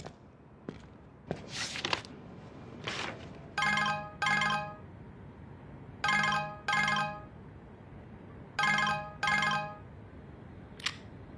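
A phone ringtone chimes in repeated paired electronic bursts with pauses between them, close and clear, after a few scattered knocks.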